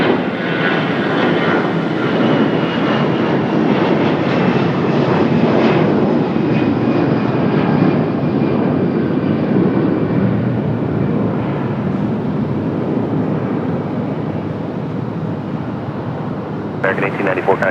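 An American Airlines jet airliner at Raleigh Durham airport roars loudly and steadily, its engine noise slowly fading toward the end, with some wind buffeting the microphone.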